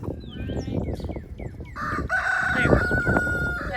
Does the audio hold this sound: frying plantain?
no